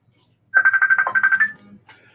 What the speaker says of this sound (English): The phone's ringing and it's Dad.